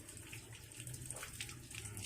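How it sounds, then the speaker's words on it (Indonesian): Hands are rinsed under running tap water until the soap is gone, a steady close splashing rush of water over skin, continuous and alone without talk. "Setelah itu dibilas dengan air mengalir sampai bersih"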